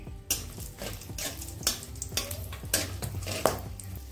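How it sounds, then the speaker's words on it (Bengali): Dried red chillies frying with salt in hot oil in a pan, a low crackling sizzle broken by sharp spoon-on-pan clinks and stirring scrapes at irregular intervals, close and clear. "লবণটা দিয়ে যে শুকনো লঙ্কাগুলো আমি নিয়েছিলাম সেটা দিয়ে দিচ্ছি।"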